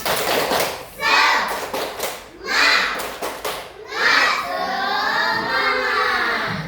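An Indonesian school class does a rhythmic clapping cheer, tepuk semangat, with several sharp bursts of group clapping followed by children's voices.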